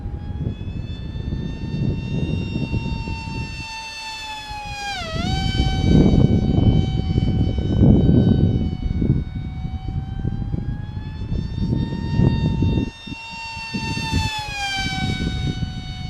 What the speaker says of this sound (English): Yeah, I really like how this plane flies.